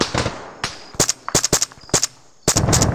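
Gunfire in the ArmA 3 military shooter: loud, close bursts and single shots crack out in irregular clusters, with short pauses between volleys.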